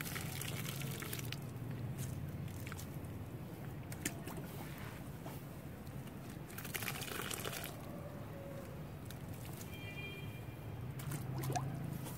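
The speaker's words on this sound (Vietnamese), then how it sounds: "Các bạn vắt kiệt nước đi." Soaked coconut coir being wrung out by hand over a tub, a steady wet splash and patter of water running and dripping, continuous and close, with no talking.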